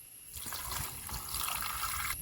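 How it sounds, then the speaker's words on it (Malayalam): Water is poured into a pot for cooking plantains, a soft, close, continuous trickling splash that starts after a brief quiet moment and runs steadily to the end. "കുറച്ച് വെള്ളം ഒഴിച്ചു കൊടുക്കാം."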